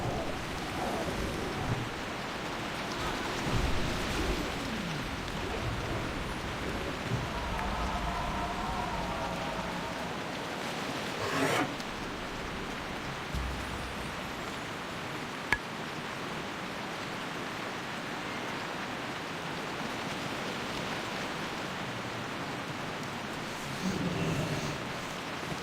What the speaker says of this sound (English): I gotta say, I'm loving the ambiance of the rainy jungle at night.